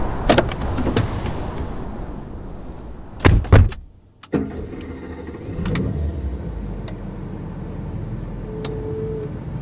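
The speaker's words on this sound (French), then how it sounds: "Tous deux remontèrent en silence dans la voiture." Car doors slamming shut, two sharp close thuds in quick succession, then a car engine idling in a quiet cabin, produced as an audio drama sound effect.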